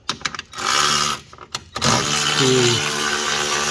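A ratchet with a 13mm socket drives out bolts on a 2015 BMW M4: quick rattling clicks in short bursts, then a steady whirring drive up close.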